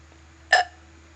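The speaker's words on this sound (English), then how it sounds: "I haven't burped in a while." A single short, abrupt burp sounds close to the microphone in a quiet room with a low steady hum beneath it.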